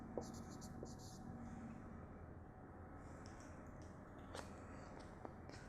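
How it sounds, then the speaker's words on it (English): Pencil drawing straight lines on paper for an engineering projection diagram, a soft continuous scratchy scraping with a few brief taps, close and quiet in a still room. "first you draw the XY line, then write the VP HP."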